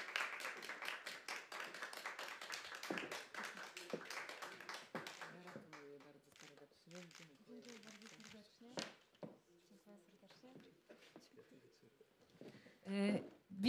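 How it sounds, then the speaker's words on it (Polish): Audience applause for prize winners at the final of a national vocal festival, loud clapping for the first few seconds that thins into scattered claps, with someone speaking into a microphone over it. "Wielkie brawa jeszcze raz tutaj dla naszych nagrodzonych"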